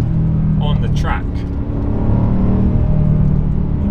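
A BMW M5 CS accelerating on a twisty mountain road at Grimsel Pass: a steady, loud engine drone heard from inside the car, with a driver talking over it throughout.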